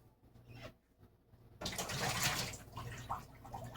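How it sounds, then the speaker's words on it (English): Water poured out of a Narcissus P901 gooseneck kettle with a flat spout, a soft rushing splash that starts suddenly and runs for about two seconds, faint and close, with quieter dribbles before it. "let me go ahead and get rid of the water really quick"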